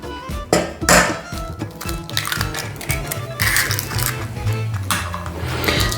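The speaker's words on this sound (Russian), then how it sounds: "вбиваем наше яичко." An egg is cracked and beaten into a curd batter for oven-baked syrniki made with rice flour and stevia. There is a sharp tap as the shell breaks, then a busy run of clinking, scraping whisk strokes against the bowl, with no voice.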